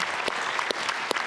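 Studio audience applause, a dense burst of many hands clapping at once, steady and fairly close, with no voices over it.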